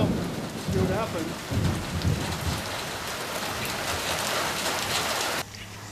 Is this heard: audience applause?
no